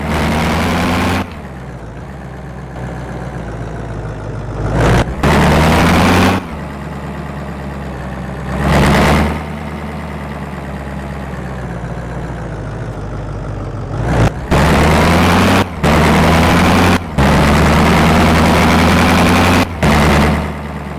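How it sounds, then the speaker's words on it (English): A truck built from junkyard parts runs with a loud, heavy, droning engine, steady and close, broken by repeated abrupt surges and cutoffs. "This sound is suppressed engine sound"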